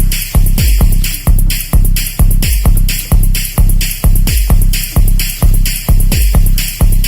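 An overdriven hard techno kick drum made in Logic Pro X thumps in a steady fast four-on-the-floor pattern, each hit loud, distorted and punchy with a booming decay, repeating alone with no voice.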